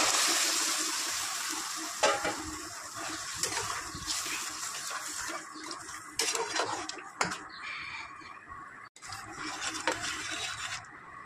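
Warm water poured into a hot pan of frying potato soybean kofta curry sets off a loud, steady hissing sizzle, with occasional clinks of a spoon stirring against the pot.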